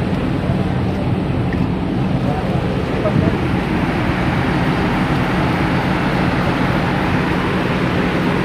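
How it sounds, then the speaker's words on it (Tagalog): A steady low engine drone runs throughout aboard a boat near a US Navy site at Subic, with broad water and wind noise layered on top at a constant, fairly loud level. "Ito yung makina"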